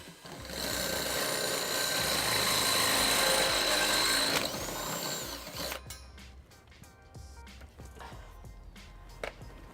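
A power tool with a 1/2 inch attachment tightens a trailer hitch bolt on a 2013 Ford Edge, whirring loud and steady for about four seconds, then stopping, followed by quieter clinks and handling noises.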